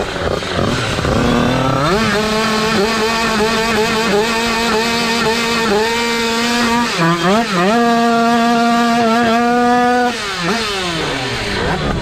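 A 50cc drag racing motorcycle engine screams at high revs during a championship final run, its tone climbing through several sharp gear shifts with a brief dip midway, loud and close for twelve seconds.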